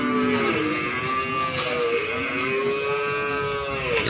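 Several cattle moo loudly and overlap in long, drawn-out calls at a livestock market, with a busy crowd murmur in the background.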